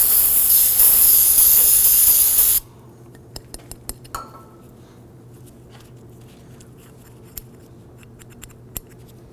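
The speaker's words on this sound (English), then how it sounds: "spray it down, clean it" Aerosol brake cleaner sprays in a loud continuous hiss onto rear brake parts of a 2008-2011 Ford Focus, cutting off abruptly after a couple of seconds, followed by quiet with a few small clicks and taps.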